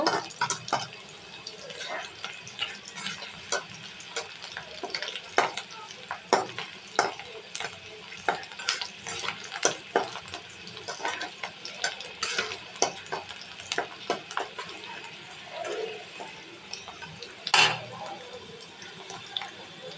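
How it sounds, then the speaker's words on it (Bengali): Onions frying in a pan at home, a steady sizzle with frequent clinks and scrapes of stirring, moderately close, no voices. "এখন পেঁয়াজটাকে আমি ভালোভাবে একটু ভেজে নেব।"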